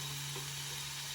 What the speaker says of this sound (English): Cheese hot dogs coming along pretty good.